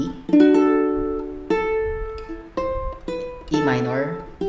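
Fingerstyle ukulele plays the chorus of Here I Am to Worship, a handful of plucked chords and melody notes struck in a slow rhythm, each ringing out clearly and close.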